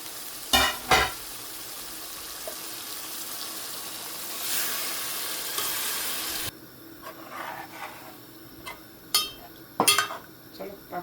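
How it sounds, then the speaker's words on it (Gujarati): Water goes into a pan of sizzling tempering for Gujarati dal, giving a sharp, loud hiss lasting a couple of seconds, then a quieter bubbling sizzle. Metal utensil clinks and clanks come before and after, close by. "ચાલો આપણે પાણી નાખી દઈએ."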